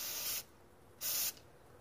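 Two short bursts of solvent sprayed from an aerosol can over a snowblower during carburetor repair, each a loud, close hiss lasting under half a second with a pause between.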